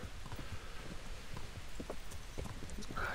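A horse gallops in the medieval video game Kingdom Come Deliverance, its hoofbeats a steady, soft rhythmic clip-clop over a continuous rushing background, fairly close and without talk.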